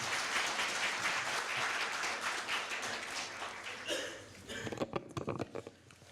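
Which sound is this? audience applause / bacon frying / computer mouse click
audience applause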